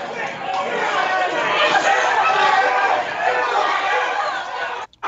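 Crowd at a played Nintendo Direct recording reacts with sustained chatter and murmuring that holds steady for several seconds, then drops out abruptly near the end.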